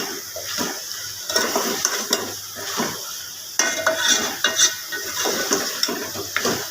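A spiced dish with coriander and garam masala fries in a pan, with steady sizzling and repeated scraping stirs of a spoon against metal, loud and close, with no talking.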